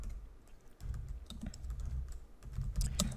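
Someone types a formula into an Excel spreadsheet on a computer keyboard, giving a steady run of close, quick key clicks with a few louder taps near the end.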